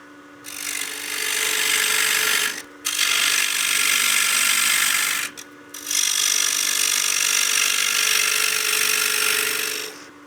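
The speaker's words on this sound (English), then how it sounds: "I'm going to switch to my scraper now. This is just a box scraper with a slightly radius nose." A slightly round-nosed box scraper cuts wood on a lathe while a coin box is turned, giving three long, loud rasping passes broken by brief pauses.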